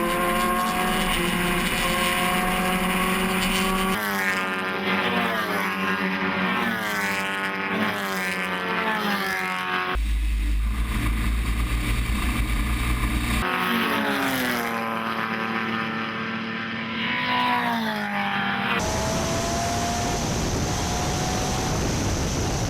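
Vintage MG race cars on the main straight at Grattan Raceway, loud engines revving and changing pitch as they pass, with abrupt shifts between cars and a steady roar underneath.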